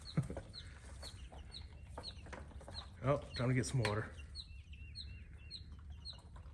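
Farm chickens cluck and squawk during morning chores, with a burst of louder rooster-like calls midway amid ongoing soft clucks, while a person speaks briefly nearby.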